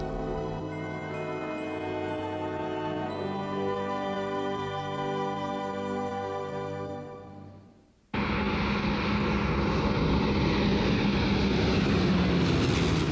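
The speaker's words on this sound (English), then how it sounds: "We're about to land at Heathrow." A propeller airliner descends to land at Heathrow, a steady droning engine hum with layered tones. It cuts abruptly into a louder, rougher roar of engine and rushing air near the end, with no speech.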